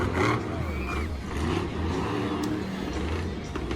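Monster truck engine roaring and revving at a Monster Jam show in a Foxborough stadium, the truck running rough, heard from a distance beneath crowd din and a commentator's voice across the whole stretch.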